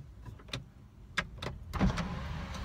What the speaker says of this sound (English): Panoramic roof. Yeah. Yeah, it opens as well.